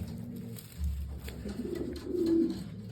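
Pigeons coo softly with low, throaty murmurs amid faint outdoor background noise, no talking.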